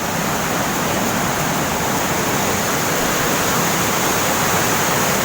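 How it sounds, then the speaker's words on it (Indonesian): Water rushes and overflows at the Selokan Mataram canal water wheel, a loud, steady broadband roar that fills the whole moment without pause or voices. "Airnya meluap-luap."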